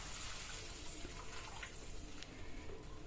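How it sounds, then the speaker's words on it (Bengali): Water is poured into a pan of mustard hilsa gravy, a faint steady wash of rushing liquid that runs throughout at low level with no talking. "এবার পরিমাণ মতো জল দিয়ে দিচ্ছি।"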